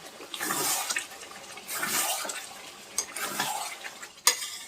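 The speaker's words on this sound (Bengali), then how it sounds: "চিকেনটা আমি সুন্দরভাবে কষিয়ে নিচ্ছি।" Spicy red chicken being sautéed in a pan, heard as repeated bursts of stirring and scraping over a sizzling fry, close and fairly loud, with no talk.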